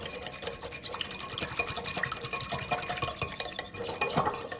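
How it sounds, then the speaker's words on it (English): A whisk beats a salad dressing in a bowl until it emulsifies, a steady close-up swishing and rapid clicking against the bowl that runs throughout with no talk. "just whisk it till it emulsifies really"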